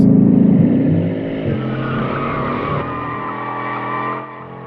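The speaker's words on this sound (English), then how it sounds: "you can select the handling mode, where you get more downforce, more stability, and you can do this" A Bugatti Chiron in handling mode driven hard, its engine roaring loud and close with a strong rising harmonic note that settles and eases off toward the end, with faint tyre noise beneath and no voices.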